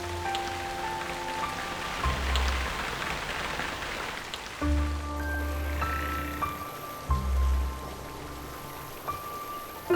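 Steady rain falls during Guangdong's long dragon-boat-water rainy season, a continuous soft patter heard under music throughout.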